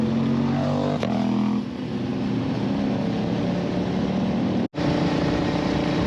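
A convoy of motorcycles rides along a foggy mountain road toward Kasauli. Several engines drone and rev close by, with rising and falling pitches and one brief drop in sound.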